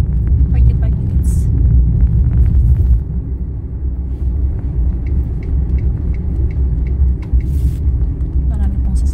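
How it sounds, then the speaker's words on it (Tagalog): Traffic of many road vehicles forms a loud, steady, low rumble that continues throughout, with no distinct pauses. "Marami pong sasakyan dito."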